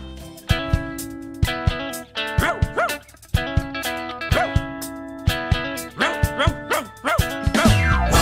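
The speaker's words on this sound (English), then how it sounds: "what are you barking for?" A dog barks and yips in a rhythmic, musical pattern over a bright, bouncy tune, with repeated short barks set against the melody.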